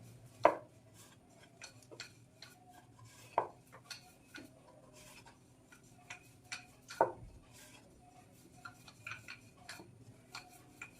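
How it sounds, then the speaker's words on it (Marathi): A wooden rolling pin pressing a methi-stuffed wheat flour paratha on a board, giving soft intermittent knocks and taps at a slow irregular rhythm, fairly faint and close, with no talking. "अगदी हलक्या हाताने आपल्याला हा पराठा लाटून घ्यायचा आहे"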